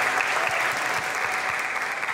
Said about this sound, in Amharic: እግዚአብሔር የተባረከ ሞቅ ያለ ጭብጨባ።